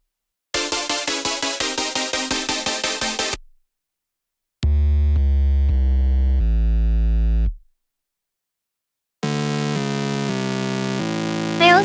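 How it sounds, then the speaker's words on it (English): Future core synth chord stack built in FL Studio, three bright layered electronic chord sections: a rapid pulsing stab pattern, then a sustained bass-heavy chord shifting through notes, then a dense shimmering held chord, loud and without talk. "Here's my chord stack."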